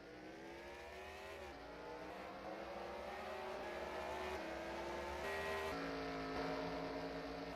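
Race trucks in a truck racing video game on a Kentucky oval roar continuously with layered engine drones, rising and shifting pitch as several trucks run close together, with no talking.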